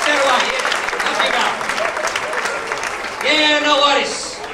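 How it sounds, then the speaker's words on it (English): Audience applause from a live crowd at an event, steady clapping mixed with loud talking and voices throughout, swelling briefly near the end. "Give me my claps, ladies and gentlemen."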